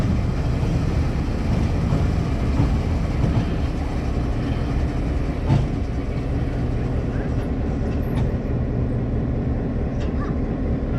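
A locomotive turning on a 1916 railway turntable, with a steady low rumble and mechanical grinding throughout, a few faint clanks and knocks, heard at moderate distance.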